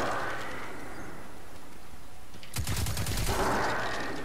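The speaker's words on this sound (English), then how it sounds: "there's a bad guy shooting at me" Rapid automatic gunfire from an enemy in the Destiny 2 video game bursts in abruptly partway through, a dense fast-repeating volley after a stretch of quieter background game noise.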